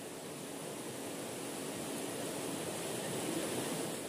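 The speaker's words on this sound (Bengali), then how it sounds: "শোনা যায় শুধু নদীর কলতান" A mountain river at Reshikhola in South Sikkim rushes past in monsoon flow, a dense, unbroken roar of water heard from the bank, steady and enveloping with no voices.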